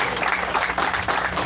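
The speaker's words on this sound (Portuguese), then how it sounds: "Aplauda Jesus." Church congregation clapping in praise during a Portuguese-language sermon, a short, dense burst of applause that fills the hall and holds steady throughout.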